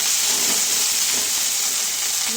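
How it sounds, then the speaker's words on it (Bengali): Onions frying in a pan with garlic paste and ginger paste make a loud, steady sizzling hiss that stays even and unbroken throughout, with no talking. "এরপর আমি একটু রসুন বাটা, একটু আদা বাটা দেবো, নিয়ে আর একটু এটা ভেজে নেব"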